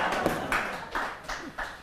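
A studio audience at a comedy show claps in a few distinct, separated bursts, fairly near and moderately loud, rather than in a continuous wave of applause.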